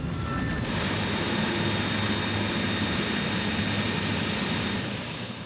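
The engines of a 60-metre-long aircraft hold a loud, steady roar during a high-power ground run test at Brisbane, then ease slightly toward the end, with no talking.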